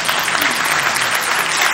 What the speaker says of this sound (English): Round of applause for Mullah Nazar.